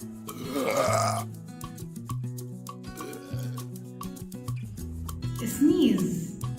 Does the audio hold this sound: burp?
yes